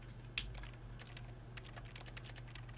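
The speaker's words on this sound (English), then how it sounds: "I was interested in hitting every setting with the arrow keys" Computer keyboard arrow keys tapped in a quick, irregular run of light clicks, close and fairly quiet over a steady low hum.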